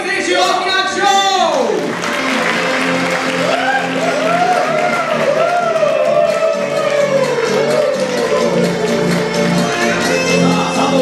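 An audience at a women's athlete model awards ceremony at the 2018 NPCJ Blaze Open applauds a contestant with steady, sustained clapping and some cheering, under loud music with sweeping tones and an announcer speaking throughout.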